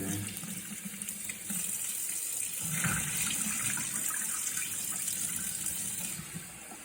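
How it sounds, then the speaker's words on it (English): Water drains from rice that soaked overnight, a steady close rush of pouring water running without pause for the whole stretch, with no voices. "rice that is soaked for almost all night. And I'm gonna drain this thing."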